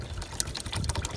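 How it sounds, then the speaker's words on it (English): RV grey water rushes and splashes into a G-Flow water tank, a dense, close, continuous gushing flow lasting about a second. "It's taking all the gray water out and funneling it through this"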